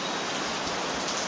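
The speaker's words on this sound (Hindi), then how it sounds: "इतनी ज़्यादा तेज़ बारिश हो रही है यहाँ पर।" Heavy monsoon rain in Mumbai pours down in a loud, dense, unbroken roar of water that stays close and constant, with no voices.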